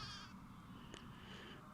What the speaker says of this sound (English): Look at all those sheep.